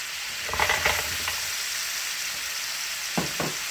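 Sausages sizzle and spit in a hot pan, with a steady frying hiss under a few louder bursts of stirring and crackle near the start and again toward the end.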